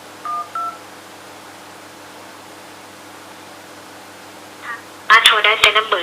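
Short bursts of keypad dialing tones from an Oppo A92 phone's loudspeaker, a brief pair early, then a denser run of beeps near the end, over a quiet hiss.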